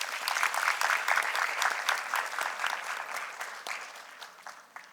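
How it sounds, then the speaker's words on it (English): An audience at an environmental sustainability lecture breaks into applause, many hands clapping at moderate distance, swelling briefly then tapering off and fading out. "So I think you should give some clap for that."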